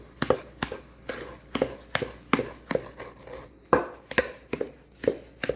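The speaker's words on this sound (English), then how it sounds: "I'm going to mix this together." Chocolate cake batter with sugar being mixed by hand in a bowl, with a steady series of about a dozen sharp, close knocks and scrapes of the utensil against the bowl and no talk.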